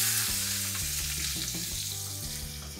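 Chopped onions hit hot oil with crackling mustard seeds and asafoetida, a loud continuous sizzle and spatter filling the clip up close, with faint tonal hum beneath and occasional utensil scrapes.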